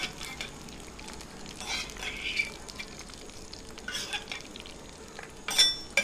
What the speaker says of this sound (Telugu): పచ్చిమిర్చి ఇవన్నీ తీసుకోవాలి బయటికి.